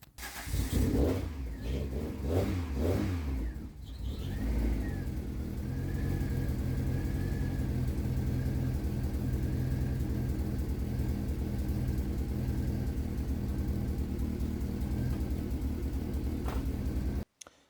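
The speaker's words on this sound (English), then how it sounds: "Our exhaust is on. It sounds terrible in the garage, echoing" Mk2 Golf GTi 16v engine with a newly fitted ABF downpipe and exhaust running inside an echoing garage, opening with a few sharp revs before settling into a loud, steady rumbling idle that cuts off abruptly near the end.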